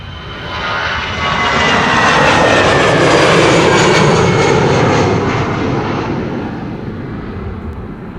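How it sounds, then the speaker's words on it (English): An Aer Lingus jet airliner, flight 603 to Dublin, departs from Amsterdam Schiphol, its engines a loud, sustained broadband roar that swells and peaks mid-way before easing slightly as it climbs away. "is Aer Lingus going to Dublin"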